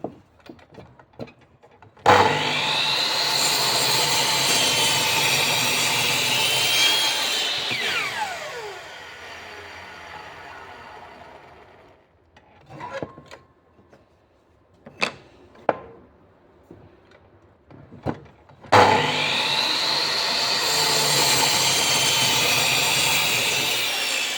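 Circular saw fitted with a Makita, DeWalt or Metabo crosscut blade slicing across wood: a loud, sustained whine during the cut, spinning down into a quieter stretch with scattered clunks, then a second full-power cut.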